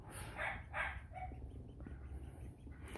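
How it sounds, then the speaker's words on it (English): Dog barking at another dog: several sharp barks in quick succession near the start, then quieter yips and whimpers over a dull background rumble. "My dog is going spastic at the other dog"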